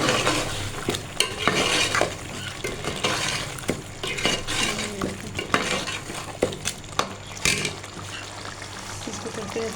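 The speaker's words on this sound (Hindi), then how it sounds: "ये चिकन है फ्राई हो रहा था" Chicken sizzles and fries in a pan with turmeric, garam masala and coriander powder, with steady crackle, scraping stir strokes and utensil clinks throughout, and a voice talking quietly at moments.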